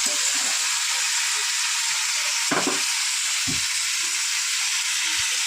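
Fish frying in a pan of hot oil, a loud, constant close sizzle and hiss with a few short knocks from a utensil partway through.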